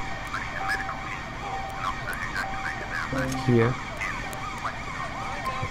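A wailing ambulance siren sweeps up and down continuously in the police game LCPDFR, set on British roads with Essex Police, heard at moderate distance beneath a brief spoken word and some vehicle noise.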